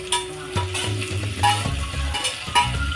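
Onions and tomatoes cook in hot oil with a soft sizzle beneath repeated knocks and scrapes of a spoon stirring the pan, close and fairly steady.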